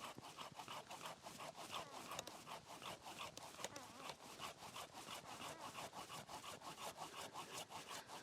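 A hand saw cutting through a branch of an almond tree in an orchard during pruning, producing steady, close, rhythmic back-and-forth rasping strokes that continue without pause throughout.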